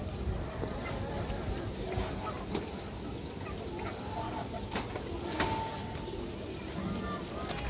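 A black Bagha hen pigeon and her loft mates coo softly in the background while someone talks over them for most of the stretch.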